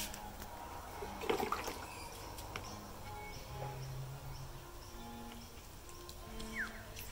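Warm water poured over soapy wet felting in an art studio, a soft continuous splashing and trickling wash that stays fairly quiet and steady throughout.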